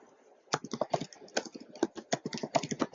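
Fingers type on a computer keyboard in a quiet room, a close, irregular run of light clicking keystrokes after a short pause, with no talk.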